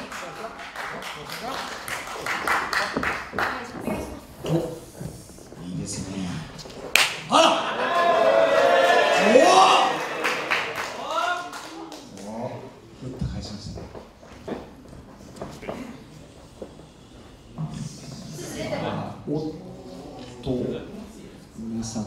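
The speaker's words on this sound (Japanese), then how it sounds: "皆さん大きな拍手で" A crowd at a women's professional wrestling show applauds loudly for several seconds, with a swell of clapping and cheering between stretches of an announcer talking over the hall's echo.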